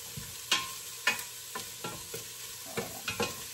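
Garlic frying in a pan for sotanghon soup, with steady sizzling and a spatula scraping the pan in repeated stirring strokes about every half second, close by with no talk.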